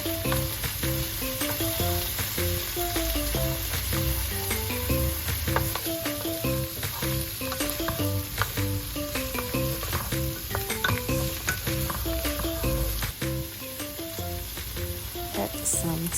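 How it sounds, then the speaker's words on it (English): Sausage and fresh shrimp stir-frying in a pan for fried rice, a busy crackling sizzle with stirring throughout, heard beneath a melodic background music track. "I'm gonna stir fry the sausage and the fresh shrimp there"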